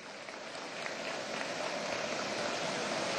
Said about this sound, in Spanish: Un aplauso a Ramón Ernesto.